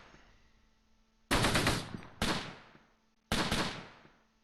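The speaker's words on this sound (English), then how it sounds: "They're kind of shooting to the north like they can see us" Gunfire in the WWII tactical game Close Combat, set near Mue in June 1944: three loud, sharp bursts of shots, each ringing out and decaying, separated by short gaps with no talk.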